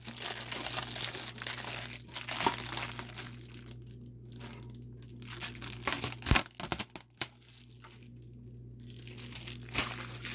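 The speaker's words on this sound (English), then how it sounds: "this film is just here to prevent scratching, so let's take that off real quick." Protective plastic film being peeled off a new light, a close, quiet crinkling and crackling that comes in uneven bursts with a few sharper snaps, over a faint steady hum.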